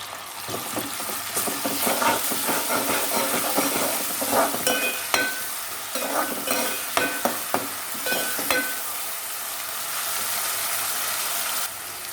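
Crushed onions and curry leaves fry in hot oil with a dense, crackling sizzle, with repeated scraping stirs and clicks of a utensil on the pan, close up and without talk.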